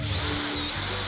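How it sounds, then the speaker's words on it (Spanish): A power drill whines briefly at high speed, its pitch wavering slightly as it bores through two pieces of wood for a standing coat rack. "Dejando aquí espacio para pasar el taladro."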